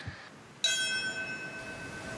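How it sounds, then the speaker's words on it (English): Church bell tolling for the September 11 memorial, with one clear ringing strike preceded by a fainter one, its tone fading slowly afterward. "Bells tolling across the nation to mark 22 years since the terrorist attacks on September 11th."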